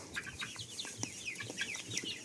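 Chickens and roosters, including white roosters and large-combed roosters, fill a barn with overlapping clucks and sharp chirping calls, close and continuous with no pauses.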